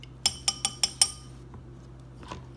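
A spoon clinks five times against a glass while stirring lemon water with added lemon juice, bright sharp taps close by in quick succession, followed by a faint soft clink.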